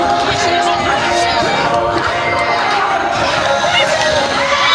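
Crowd noise at an NCAA women's beach volleyball match between Stetson and CAL, with spectators cheering and shouting in a loud, steady wash for the whole stretch.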